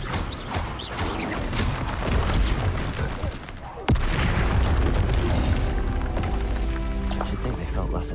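Confringo and Bombarda spell blasts from Hogwarts Legacy combat: dense rumbling booms and crackling impacts, a sharp burst near the middle, loud and continuous under a voice calling out.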